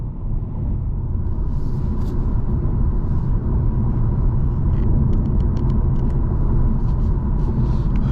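A 2023 Ford Mustang EcoBoost driving on the road, heard from inside as a steady low engine and road rumble with faint higher tyre hiss, continuous and even throughout.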